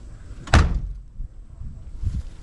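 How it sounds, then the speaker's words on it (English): Car door on a Pontiac Firebird at an auction lot, shut once with a single solid slam, followed by quiet outdoor background noise. "Door still shuts pretty good."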